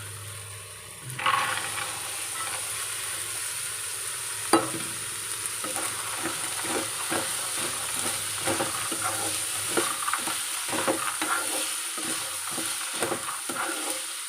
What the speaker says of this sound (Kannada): ಕಾಳನ್ನು ಒಂದು 5 ನಿಮಿಷ ಇದೇ ರೀತಿಯಾಗಿ ಫ್ರೈ ಮಾಡ್ಕೊಳ್ತೇನೆ.